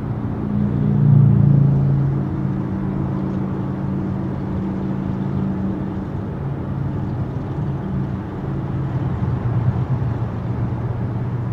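Inside a 2022 Hyundai IONIQ 5 or Ford Mustang Mach-E, an electric car driving in traffic on a rough concrete road, a continuous low road rumble and tire roar holds steady throughout, with a slightly louder swell near the start.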